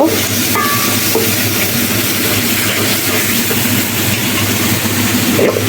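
Vegetables stirred in a pan with spice paste and dried fish, a steady dense sizzle with scraping stir strokes running throughout, close and fairly loud, with a faint clink near the end.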